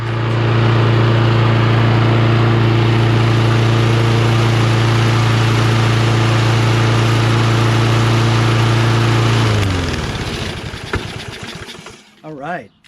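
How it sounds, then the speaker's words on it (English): Kohler XT675 engine on a Toro Recycler lawn mower runs at a steady, loud, close drone for about nine seconds, then cuts off and winds down, leaving a few faint clicks and rustles. "I'm gonna run it for a little bit, see if that choke flap opens up by itself"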